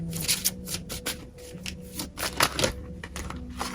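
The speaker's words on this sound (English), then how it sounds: "I'm going to keep shuffling because it feels like there's another jumper" A deck of playing cards being shuffled again and again at close range, crisp riffling bursts arriving in an uneven rhythm, with the soft slap and rub of the cards between them and no talking.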